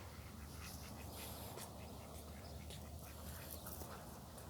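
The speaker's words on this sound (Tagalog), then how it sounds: "Yung isa parang pato, yung bibi ba? Ito yung pato." Faint, distant ducks on a farm in Iraq quack repeatedly in short bursts against a steady, noisy outdoor background.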